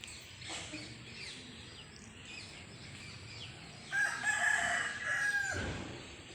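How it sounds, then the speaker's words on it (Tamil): A rooster crows once at moderate distance, a drawn-out call rising over steady outdoor background noise. "நிறைய நாட்டுக்கோழி வளர்க்குறோம் நாங்கள்."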